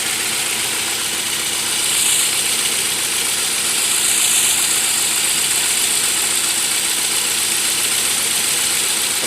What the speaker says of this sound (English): that engine is shaking a little bit too much because of the misfires